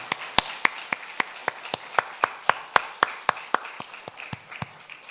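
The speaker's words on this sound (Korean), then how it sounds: "우리 박수로 하나님 앞에 감사와 영광의 박수 올려드리겠습니다" Church congregation claps together in praise during a Sunday morning worship service, producing a steady, evenly spaced rhythmic beat of loud unison claps, about four per second, with no talking.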